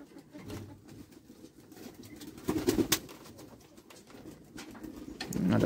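Soft, low racing pigeon coos repeat on and off, with a fuller cooing burst midway and another near the end over faint outdoor ambience at a loft.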